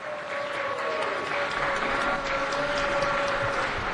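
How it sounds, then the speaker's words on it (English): Audience applause at a city council meeting, steady and continuous clapping from a crowd, moderately loud, with a faint tonal hum running underneath. "Please give Bill Rosendahl a round of applause."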